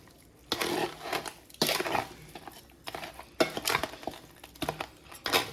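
Chicken pieces tossed with salt, turmeric powder and chicken masala in a bowl, giving bursts of wet clattering and scraping against the vessel in several separate rounds, close and fairly loud with short pauses between.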